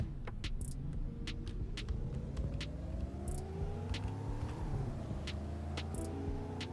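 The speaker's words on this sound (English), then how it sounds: "I'm gonna try and do a peel here." A 1969 Dodge Coronet accelerates hard in a peel, engine note rising steadily through the gears with a loud, close rumble and no talking over it.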